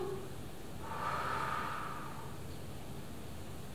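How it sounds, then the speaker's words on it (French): Forceful exhale during an exercise session, a single breathy push of air lasting about a second, near and fairly faint over a steady background hiss. "Soufflez, videz tout."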